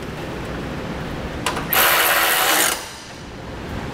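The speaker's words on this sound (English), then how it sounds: "we can take our little mounting brackets for our condenser, and we can reinstall both 10 millimeter bolts" A ratchet spins 10 millimeter bolts into condenser mounting brackets on a vehicle during a transmission cooler install, a single buzzing burst of about a second amid quiet workshop background.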